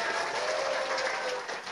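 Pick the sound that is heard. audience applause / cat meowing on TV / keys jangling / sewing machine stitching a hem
audience applause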